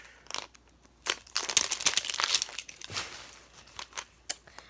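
Plastic wrapping crinkles and crunches in bursts as someone struggles to open a stuck zipper bag from a fidget toy unboxing, with close, irregular rustling peaking midway and scattered crackles toward the end.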